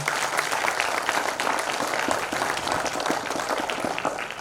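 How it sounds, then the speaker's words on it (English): A large seated audience at a conference hall applauds to welcome a chief guest, with steady dense clapping filling the room from start to finish at a loud, even level. "give him a warm welcome with a big round of applause"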